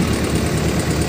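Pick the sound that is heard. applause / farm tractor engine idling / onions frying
farm tractor engine idling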